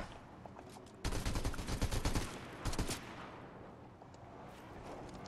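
Rapid gunfire in the Fortnite video game: a dense automatic burst lasting about a second, then a shorter volley, both fairly quiet over a low background.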